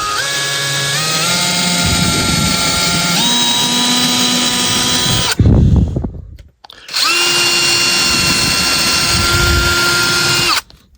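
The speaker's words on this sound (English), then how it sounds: "I've got to drill some holes here for my feeder, so I'm going to go ahead and do that." A power drill boring holes for model railroad feeder wires whines loudly, its pitch rising as it spins up, in two long bursts separated by a brief clatter and a pause.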